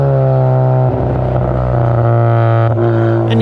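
A tuned 400 hp Ford Focus ST with its exhaust set to silent mode revs loudly and close up, a deep, steady engine tone that surges and dips with throttle blips, with no talking over it.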